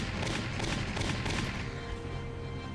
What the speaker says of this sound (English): We saw those shots.